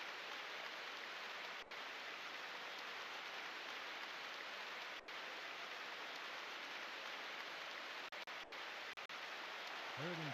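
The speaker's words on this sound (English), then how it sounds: "The rain has soaked the field, the ball, everything." Rain pouring onto a football field in an American football video game, a dense, even hiss of steady rainfall filling the whole clip, with a few brief dropouts and no clear voices.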